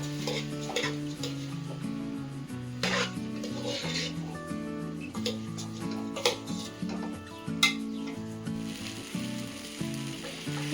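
Rice being sautéed and stirred in ghee in a pan for ghee rice, a light sizzle with scraping stirs, heard under prominent background music.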